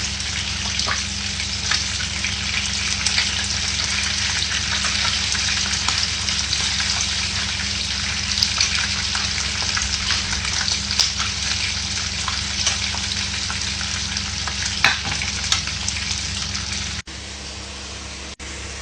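Potatoes frying in oil give a loud, continuous sizzle with scattered pops for about seventeen seconds, then the sound drops off sharply.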